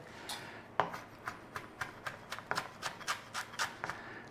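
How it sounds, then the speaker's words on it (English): A knife mincing fresh parsley on a board makes a quiet, irregular series of crisp chops and taps, about a dozen close strikes with short pauses between them. "Parsley, give it a mince over."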